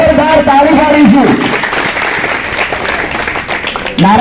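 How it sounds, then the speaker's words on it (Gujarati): A crowd applauds loudly and steadily at a bhoomi pujan ceremony for a library, with a voice speaking just before the clapping swells and again as it fades. "આપણે જોરદાર તાળી પાડીશું।"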